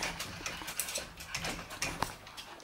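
A dog moves about with faint whimpers and light scrabbling, quiet and intermittent, with small clicking taps.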